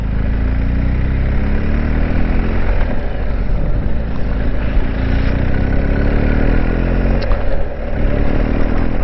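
A quad bike on the road ahead, its engine droning steadily and loud under heavy wind rush, heard from a following adventure motorcycle whose own engine runs continuously alongside.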